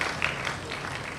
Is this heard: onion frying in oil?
no